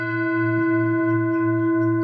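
A meditation bell struck during a Buddhist retreat sustains one steady, ringing tone with rich overtones, a slow low pulsing beating beneath it, loud and close with no talk.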